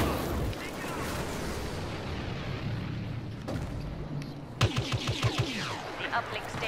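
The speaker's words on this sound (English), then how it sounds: "You can actually shoot the X-Wing stuff." Blaster fire aimed at an X-Wing in Star Wars Battlefront: a dense wash of battle noise with a burst of rapid, evenly spaced shots near the end, loud and close.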